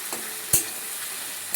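Tomato and capsicum fry in a pan for a Beldanga green chilli chicken curry, giving a soft, steady sizzle with one brief clank of a utensil partway through.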